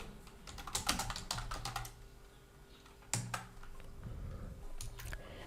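Keys clatter on a computer keyboard while text goes into a website search box, with quick bursts of close clicking separated by short pauses.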